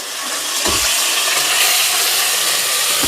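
Mutton added to a hot pan with onions for Madurai-style mutton kulambu sizzles loudly in a steady, bright hiss, with a couple of low thumps as the meat settles and no talking.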